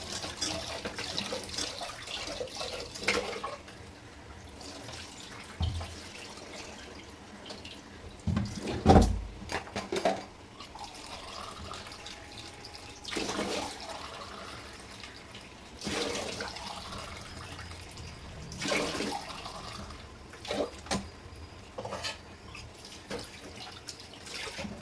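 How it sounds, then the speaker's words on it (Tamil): Rice being washed in water at a home kitchen sink before cooking lunch, with irregular splashes and swishing bursts over a steady trickle, moderately close and without talk. "அரிசி கழுவி வச்சுக்கலாம்."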